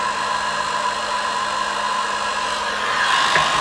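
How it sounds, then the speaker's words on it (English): A heat gun blows hot air to melt embossing powder on metal shapes for a birthday card, giving a steady, loud, close rushing whir that holds evenly throughout. "I'm going to use my heat gun and heat that up"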